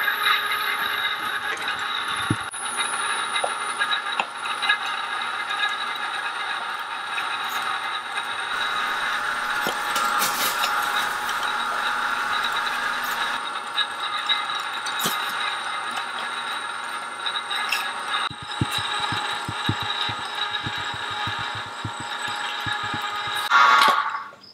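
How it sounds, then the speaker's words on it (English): An electric meat grinder runs continuously while grinding venison sausage mix for sweet Italian brats, a steady mechanical whir with rattling and clattering throughout, ending as the motor stops. "we're going to run it through the grinder one more time just to make sure it mixes up real well"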